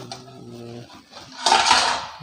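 A spoon stirs vegetable curry in a pot, a brief metallic clink at the start, then a louder burst of scraping and clattering against the pot in the second half, close by, with no talk.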